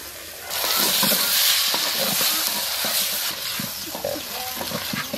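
Chili and turmeric powder stirred into a hot frying pan over a village fire, a steady loud sizzle with scraping strokes of the spoon running throughout, close and continuous.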